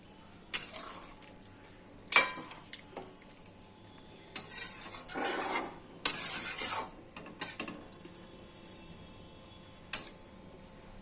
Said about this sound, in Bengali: এবার আমি এই ডিমগুলো ছেড়ে দিচ্ছি চারটে ডিম